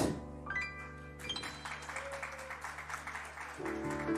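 Audience applause for a band at a Jewish music concert, a soft steady patter of clapping over lingering sustained musical tones.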